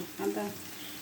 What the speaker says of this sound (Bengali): আদাটা একটু তেলের সাথে ভেজে নেব।